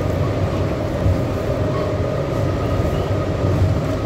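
Metro train ride toward Bukit Bintang in Kuala Lumpur, a steady loud low rumble and rolling hum inside the carriage with no talking.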